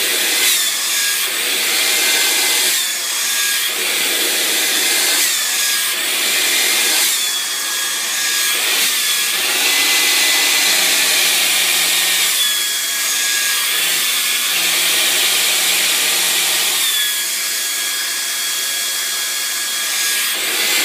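A hair dryer blows steadily while hair is being styled, giving a loud, continuous rushing whoosh with a faint whine on top. The pitch dips and shifts briefly as the dryer is moved, and no one talks.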